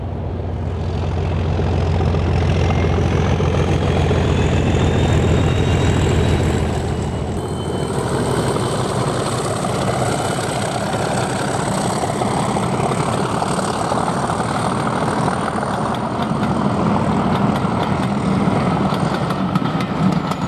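Diesel locomotive 37263 opens up and accelerates away from Bank Farm toward Highley on the Severn Valley Railway, a loud, sustained engine roar with heavy low rumble that shifts in tone partway through, with no voices.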